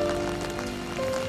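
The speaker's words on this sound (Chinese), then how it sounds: "现在下大雨，我用手机先录一下" Heavy rain pours steadily at a teahouse in a Japanese garden, a dense, even patter close by with a few faint tonal hums underneath.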